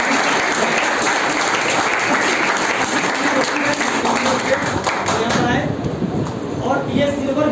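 Loud, dense applause from a seated audience at an Indian business networking meeting, steady clapping filling the room for several seconds before thinning slightly near the end, with voices mixed in.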